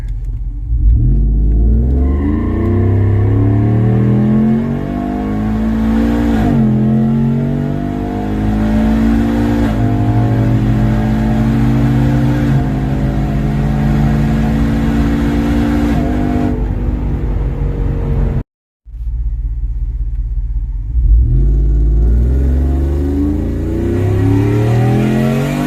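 A supercharged 2018 Ford F-150 with a 5.0 V8 running on E85 revs up close and loud, rising in long climbing sweeps with a supercharger whine, easing off, briefly cutting out, then revving again.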